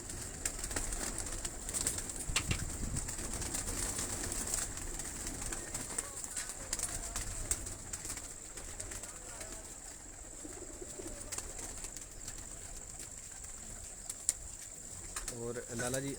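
Pigeon cooing faintly in the background of a noisy room, soft low repeated calls beneath a steady hiss, with people talking intermittently.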